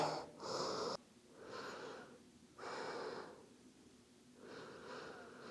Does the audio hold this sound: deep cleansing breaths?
yes